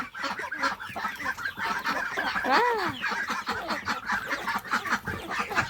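Young poultry, chicks and ducklings, calling at close range on a Lao farm: goose-like honks and overlapping chirps keep up without a break, one louder rising call standing out in the middle.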